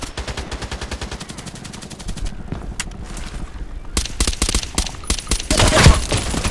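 Bursts of suppressed H&K MP5SD6 submachine gun fire in the Contract Wars video game, a rapid string of sharp shots, then a short pause and further spaced shots, loud and close over a steady game background.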